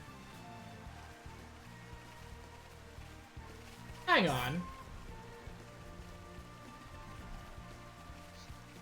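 Steady rain patters across an outdoor area in the video game Xenoblade Chronicles, a soft continuous wash with a sharp sweeping effect midway and someone talking over it.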